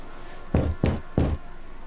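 A door is flung open quickly in the horror game Outlast 2, giving three loud, close wooden knocks in a fast uneven burst with no talk.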